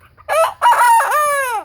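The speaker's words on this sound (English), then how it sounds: "his crow is kind of short and sweet" A tame, friendly backyard rooster gives one short crow, a brief opening note and then a rising and falling call lasting about a second, loud and close with no talking.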